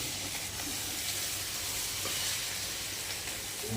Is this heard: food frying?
yes